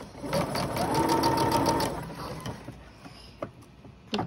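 A sewing machine runs a steady stitching burst for about two seconds while sewing a seam on an elastic waistband for an upcycled skirt, then it slows and stops, leaving a few faint clicks and handling noises.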